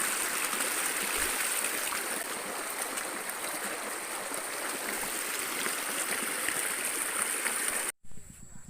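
Water flows steadily while hands and feet are washed near rice paddies, a loud, continuous close rushing and splashing that runs almost the whole time before cutting out briefly near the end, with a voice faintly over it.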